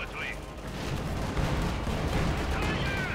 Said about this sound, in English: Bit of shooting going on there.